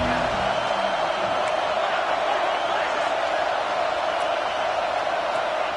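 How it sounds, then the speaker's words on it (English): Stadium crowd roar in the College Football 26 video game, a dense continuous wash of cheering, loud and unbroken throughout, with a commentator's voice briefly over it at the start. "This crowd ready to make its presence known."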